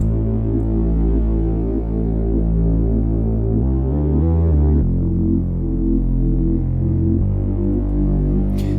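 A steady synth bass line plays low, looping notes under a sustained hum, with a short brighter passage midway; no voices.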